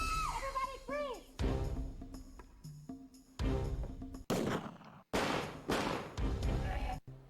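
Sharp gunshots ring out in a lightgun shooter game, several loud, separate cracks with echoing tails, mixed with synthesized game music and voiced game dialogue.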